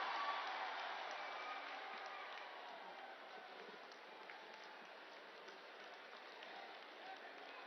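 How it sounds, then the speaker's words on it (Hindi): A large crowd applauds in welcome at a public ceremony for Prime Minister Narendra Modi, a soft, distant, continuous patter of many hands that fades slightly and then holds steady. "बहुत जोरदार तालियों के मध्य उनका स्वागत करें, अभिनंदन करें।"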